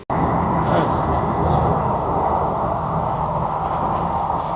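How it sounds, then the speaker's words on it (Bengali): A Sealdah-Krishnanagar AC local train rolls into a station platform, a steady broad rumble of wheels and carriages at moderate level with faint higher squeaks overhead. "শ্যামনগর স্টেশনের 3 নম্বর প্ল্যাটফর্মে ট্রেন ঢুকেছে।"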